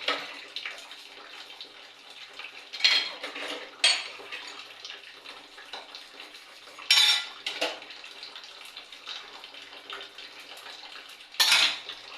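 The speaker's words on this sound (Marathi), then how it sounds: "सर्वप्रथम घासून घेते भांडी आणि मग स्वयंपाकाला लागते" Dishes and pots being scrubbed and washed by hand in a village kitchen, with repeated clattering clinks of metal utensils over a steady scrubbing and rinsing background, close and fairly loud, no talking.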